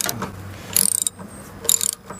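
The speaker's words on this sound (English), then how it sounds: "I use my 3/8 ratchet wrench" A 3/8 ratchet wrench on an adapter turning an RV drain plug: two short bursts of rapid metallic clicking from the pawl, close up, separated by brief pauses.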